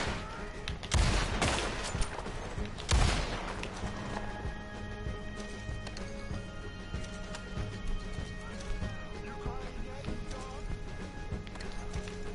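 Gunfire with explosive rounds in Red Dead Redemption: two loud, sharp blasts near the start, then a steady background of game ambience and faint hoof clatter, with no further shots.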